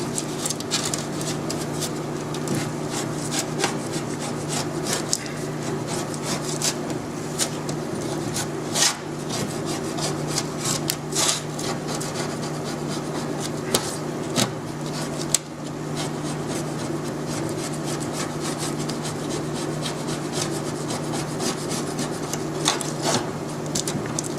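A scraper works old gasket material off a transmission valve body spacer plate in a steady run of close, gritty rasping strokes with occasional sharper scrapes, continuous under a constant background hum.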